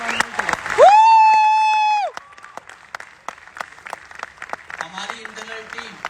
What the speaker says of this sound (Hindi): आपकी गजब तालियों के साथ